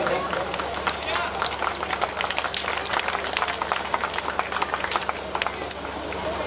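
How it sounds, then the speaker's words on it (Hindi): Applause for students being honored on stage for top percentage marks at a school awards ceremony, a dense, steady wash of clapping from a crowd over the full stretch with background babble. "जोरदार तालियां इन बच्चों के लिए"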